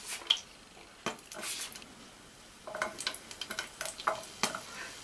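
Salt and pepper chicken with green beans cooks in a pan with quiet, crackly sizzling and a scatter of light scraping, clicking stir sounds coming in irregular bursts, fairly faint and with no speech.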